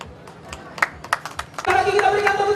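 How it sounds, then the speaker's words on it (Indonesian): A crowd at a regional election candidates' declaration in Timika, Papua, claps in scattered sharp bursts that swell into fuller applause, and a voice talks over the start. "Lagi kita berikan tepuk tangan yang paling meriah atas dukungan koalisi Mawar Papua untuk pasangan calon Bupati Mimika."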